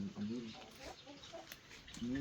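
A fighting rooster on a gamecock farm gives several short clucks near the microphone, mixed in with someone talking nearby.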